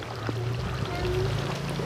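A small splash of milk is poured in a home kitchen while cooking, a soft steady liquid trickle heard up close over low background noise.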